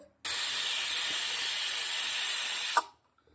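A pressure cooker of moong pulao whistles, releasing one loud, steady hiss of steam that starts abruptly, holds for about two and a half seconds, then cuts off, close and alone.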